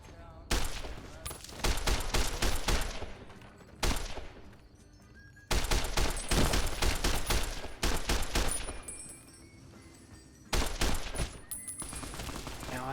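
Service rifle gunfire in the video game Fallout: New Vegas, several loud bursts of rapid shots separated by short pauses, with a voice talking faintly underneath.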